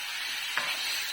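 Pieces of chopped chicken get turned in a hot pan, a close scrape of the utensil over a constant bright sizzle, heard in one brief stroke.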